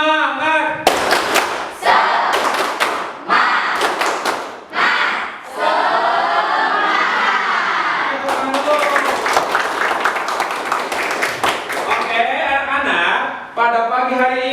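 A classroom of students claps a rhythmic spirit-clapping routine, loud bursts of hand claps in quick patterned groups, mixed with the students' voices chanting along.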